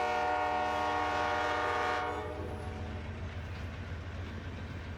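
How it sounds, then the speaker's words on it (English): A freight train's horn blares loud at a road crossing in Kentucky, a sustained chord that cuts off after two seconds, leaving the low rumble and rhythmic rolling of the cars passing close by. "My guess is that it's a K train"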